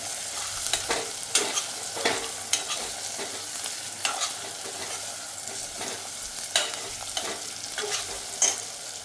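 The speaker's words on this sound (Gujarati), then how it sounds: "હવે એને બરાબર હલાવી લેશું એક સાથે મિક્સ કરી લેશું બરાબર" Bitter gourd and masala are stirred in a pressure cooker, with repeated close scraping strokes at an uneven rhythm over a constant frying sizzle and no voices.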